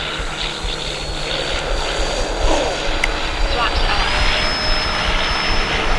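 E-flite EC-1500 RC airplane on its maiden flight lifts off from a grass field, electric motor whining loud and steady under a voice, with the pitch rising as it climbs.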